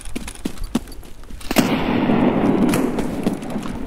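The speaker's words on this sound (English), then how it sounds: "Threw a grenade over there." In Escape From Tarkov, scattered sharp gunshot cracks give way to a loud grenade blast that rolls into a long, rumbling, debris-filled roar with further pops over it.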